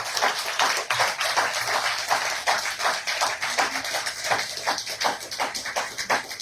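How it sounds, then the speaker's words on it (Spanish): Church congregation claps for the Lord, a loud, lively wash of many hands with distinct rhythmic claps standing out, continuing steadily throughout without speech. "¿Le podemos dar un aplauso al Señor por lo que hace?"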